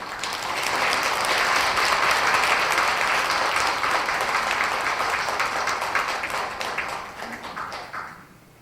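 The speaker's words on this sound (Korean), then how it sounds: "큰 박수로 신부님을 맞아주시길 바랍니다" A church congregation at a Lenten lecture in a Catholic parish applauds to welcome the priest, a dense, steady wash of clapping that holds for about seven seconds before thinning and fading out.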